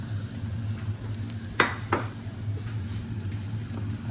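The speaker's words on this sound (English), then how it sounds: "Now I'm tossing in my onions also into the frying pan" Onions sizzling and frying in a pan, a steady crackle with a couple of louder scraping stirs midway.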